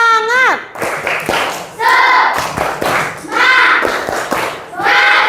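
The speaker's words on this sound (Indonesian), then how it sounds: "Sebelumnya kita tepuk semangat dulu yuk." Classroom of children doing a rhythmic spirit clap, sharp patterned hand claps and thumps in bursts, with group chanting voices between the clap sets.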